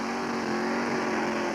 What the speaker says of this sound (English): our next pair of cars coming up to do the burnouts